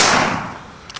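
A single loud hunting rifle shot at close range, a sharp broadband crack at onset that rings out and decays over about a second, followed by a faint brief click near the end.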